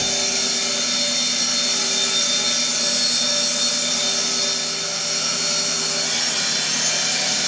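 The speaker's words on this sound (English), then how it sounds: "Turn on the grinding spindle." A lathe-mounted toolpost grinder spindle runs at 10,000 RPM, giving a loud, steady high-pitched whine with sustained tonal overtones and no pauses.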